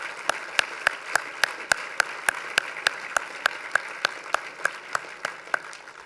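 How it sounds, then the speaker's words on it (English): Dinner guests at a formal annual political dinner applaud, with one nearby pair of hands clapping in a strikingly even, rapid rhythm, about three or four claps per second, over a quieter spread of crowd clapping. "please join me in a round of applause"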